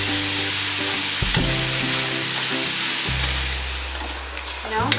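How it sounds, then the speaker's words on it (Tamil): Onions sautéing with salt in a pan for an Indian egg gravy, a continuous close sizzle with a low steady hum underneath and a few light stirring scrapes. "இந்த வெங்காயம் வதங்குறதுக்காக நான் கொஞ்சம் சால்ட்டு போட்டு வதக்க போகிறேன்."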